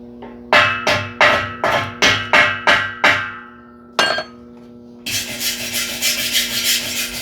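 A weld bead on a metalon tube is cleaned, with about eight loud, rhythmic rasping strokes, a sharp knock, then continuous rough scrubbing.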